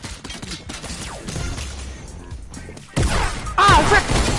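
Gunfire in a video game: a few sharp crashing blasts, loudest toward the end, over a busy background of game noise.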